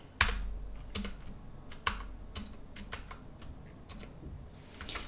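Quiet computer keyboard typing in a home streaming setup, irregular bursts of sharp key clicks with a few louder taps and short pauses, close and fairly soft.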